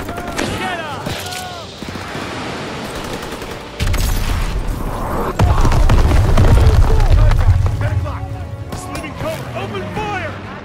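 Grenade blasts and bursts of rifle and machine-gun fire in a Call of Duty: WWII battle, booming loudly in close bursts while soldiers shout over the combat.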